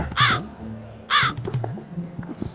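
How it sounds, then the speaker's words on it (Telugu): Crows cawing outdoors: two loud, harsh caws about a second apart, with low background sound running underneath. "ఏమిరా కాకిగోల"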